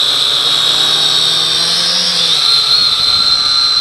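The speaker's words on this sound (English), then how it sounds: "It is a stable flyer, as you can see here, but it is such a monster quadcopter." A large RC Leading RC109F FPV quadcopter drone flying outdoors, a loud steady high-pitched rotor whine whose pitch rises and falls slightly as it manoeuvres, close and continuous.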